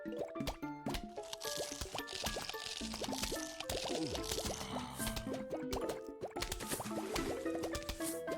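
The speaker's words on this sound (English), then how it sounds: "I heard a guy pop in the water." In a Plants vs. Zombies pool stage, repeated watery plops and splashes patter continuously against busy game sound effects and music, fairly quiet overall.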